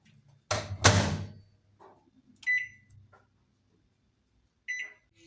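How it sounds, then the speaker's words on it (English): Microwave oven used to heat tortillas under a damp paper towel: a sharp clunk and rattle as the door opens, then short clicks and two brief electronic beeps, close in a quiet kitchen. "I'm going to microwave them with a damp paper towel for 30 seconds."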